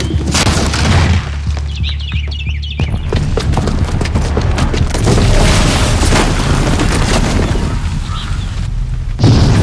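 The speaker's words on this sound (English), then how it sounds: "the booby trap on the bomb downstairs is gonna get set off" A bomb blast triggered by a booby trap in Horizon Zero Dawn, heard as a dense, loud rumbling roar with scattered booming hits and crackling debris that fills the whole stretch, with faint game music or effects beneath.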